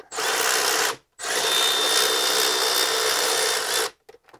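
On a BMW E46, a power tool tightens the alternator bolts in two loud, close bursts of high-pitched whirring, the first short and the second longer, each ending abruptly and followed by faint clicks.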